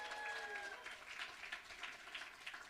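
Faint, distant applause from a crowd at a business lecture in a hotel, a soft patter of clapping that rises and fades over a couple of seconds.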